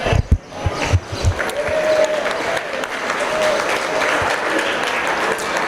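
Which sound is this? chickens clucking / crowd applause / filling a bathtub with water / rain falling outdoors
crowd applause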